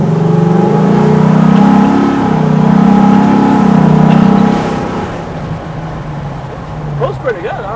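A classic Ford Bronco engine pulling hard under acceleration, heard from inside as a loud steady drone that eases off after a few seconds, with people talking over it.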